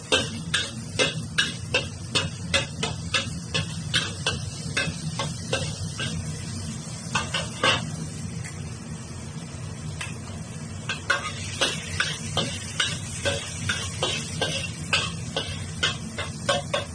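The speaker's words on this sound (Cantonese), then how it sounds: "煮酒咧就先爆香啲薑。" Ginger is stir-fried in a pan for cooking wine soup with pork liver. A constant close sizzle runs throughout under rapid, rhythmic scraping and tapping of a spatula against the pan, with no speech.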